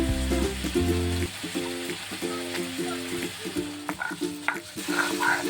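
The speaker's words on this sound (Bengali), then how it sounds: "এবার আমি শিলে বেটে নেব পরিমাণ মতো আদা রসুনটা" Ginger and garlic are ground on a stone slab for a crab kalia, producing rhythmic, repeated scraping strokes of the grinding stone at close range.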